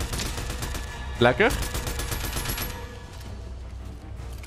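Gunfire from the Fortnite video game crackles through a short, busy stretch with a sharper burst near the middle, while a person speaks briefly over the game sounds.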